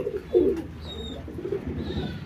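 A pair of KTM pigeons, a female and a male, coo softly in low throaty rolling calls, close by, with a few faint chirps in the background and no talk.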